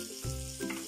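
Chili peppers drop into a hot pan and sizzle loudly as they sauté for chicken adobo, with a brief stir partway through.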